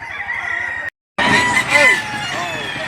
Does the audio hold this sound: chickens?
yes